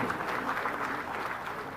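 Audience at a live cooperative conference clapping together, a dense steady burst of applause that holds at full strength for a couple of seconds.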